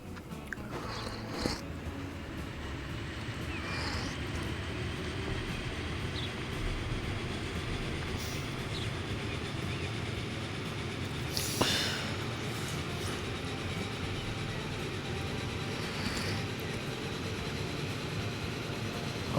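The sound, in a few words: train running in the video game Transport Fever 2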